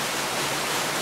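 A waterfall about 20 metres high near Machu Picchu in Cusco gives off a steady rushing roar, moderately loud and even, with no voices.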